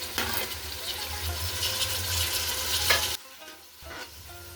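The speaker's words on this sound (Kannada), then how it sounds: "ಈರುಳ್ಳಿಯನ್ನು ಫ್ರೈ ಮಾಡಿದ ನಂತರ ಟೊಮೊಟೊವನ್ನು ಹಾಕಿ ಫ್ರೈ ಮಾಡಬೇಕು." Tomatoes frying with onions in a pan for chicken biryani, heard up close as a steady loud sizzle with scraping stirs that breaks off abruptly near the end, leaving a quieter hiss.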